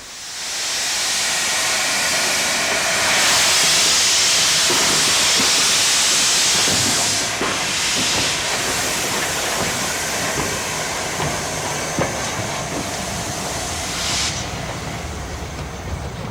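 LNER steam locomotive 4468 Mallard hauling a train over the River Nid on the Harrogate Circle line near Knaresborough, a broad steady roar and hiss heard from a distance, fading slightly toward the end.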